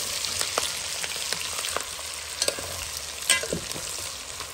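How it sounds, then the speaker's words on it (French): Chopped onion sautéing in hot oil in a pan for a braised salted pork tail with peas, a steady sizzle and crackle with occasional stirring clicks and spoon scrapes, close and continuous. "Mon oignon, il revient doucement."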